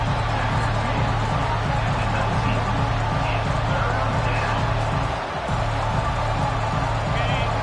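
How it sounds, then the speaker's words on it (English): Loud, dense roar of a college football stadium crowd during a Longhorns game on third down, a continuous wall of cheering that holds steady throughout with only a brief dip near the end. "Third down, and this crowd is tearing the lid off this place."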